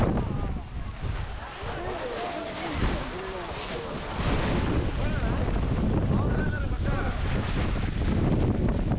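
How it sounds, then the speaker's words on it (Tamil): Strong wind on a mountain peak near Chikmagalur buffets the microphone in a steady, roaring rush, with a voice talking underneath at times. "ஒரு காற்று பயங்கரமாக அடிக்குது."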